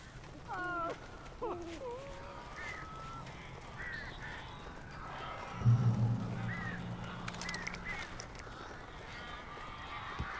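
Crows caw in the video game Alan Wake, a few harsh calls early on over game ambience, with a person talking and a low rumbling hit midway.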